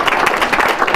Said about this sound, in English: big round of applause for Ashton and Ben